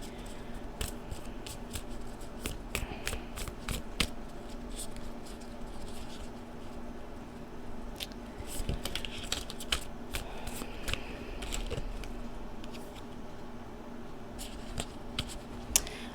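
Tarot cards being shuffled by hand, with a steady run of soft riffling and sharp card snaps and flicks, close and fairly quiet, no talking.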